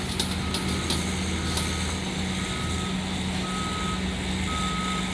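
Truck reversing beeps at a construction site for a housing project, a steady series of evenly spaced electronic beeps over a constant rumbling engine, fairly loud and with no talking.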